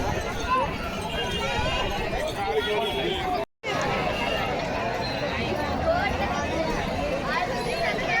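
Large crowd at the Tulja Bhavani temple in Tuljapur, a dense, close babble of many voices and footsteps, continuous and loud, with one brief dropout midway.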